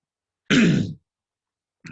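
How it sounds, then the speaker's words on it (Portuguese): A single close, loud throat clearing with a rough cough-like burst, lasting about half a second, followed by quiet and a faint start of another sound at the end. "minha garganta está coçando, de vez em quando dá uma tossida"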